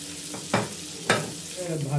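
Chopped onion and capsicum for chilli chicken sautéing in a hot pan, a steady hiss with two sharp bursts of sizzle and stirring scrapes, close up and without voices.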